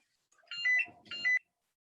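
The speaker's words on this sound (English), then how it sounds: "my internal phone." An internal office telephone rings in two short electronic bursts with a pause between, heard clearly in a quiet room during a planning committee meeting, no speech over it.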